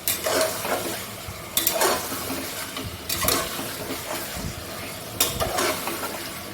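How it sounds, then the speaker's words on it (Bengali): Mutton pieces stirred in hot oil with ginger-garlic paste for a Bengali goat curry, giving a steady sizzle broken by several loud spatula scrapes and clanks against the pot, close by. "মাটনটা দিয়ে দিলাম। ভালো করে একটু তেলে নাড়াচাড়া করে নেব।"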